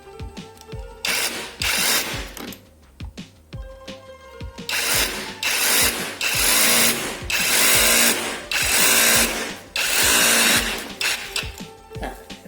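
Power drill boring into a house wall to mount a Mi TV Soundbar, loud and close, running in long grinding bursts with brief pauses and restarts between them.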